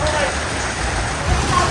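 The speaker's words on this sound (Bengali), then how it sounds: "বৃষ্টি এখনও পড়ছেই," Steady rain falls outdoors, a dense hissing patter on surfaces with a low rumbling undertone, brief and fairly loud, heard without a voice over it.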